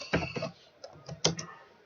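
Program code being typed on a computer keyboard: a few quick, close clacking keystrokes in irregular bursts, separated by short pauses, with no talk.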